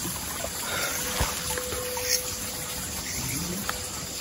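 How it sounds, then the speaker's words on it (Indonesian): A small stream trickles gently near a rough footbridge, a faint, steady babble of running water with a few soft knocks and a thin tonal whine passing in the background. "Itu aliran sungai kecil, cuman kecil banget airnya ngalir ya"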